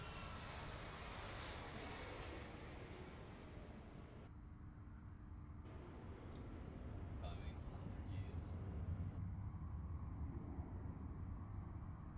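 A Boeing 737 MAX 8 airliner flies past at an airshow, its jet engines a broad, steady roar that swells slightly, with a commentator talking in the background.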